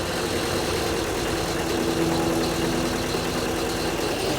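An 80s turbocharged all-wheel-drive coupe, parked as a barn find for 30 years, idles quietly and steadily at close range, a smooth low engine hum with no revving and no talk.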